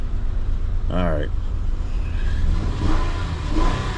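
A car engine with a misfire, not firing on all cylinders, rumbles loudly and revs unevenly from inside the cabin. A person talks briefly over the engine noise.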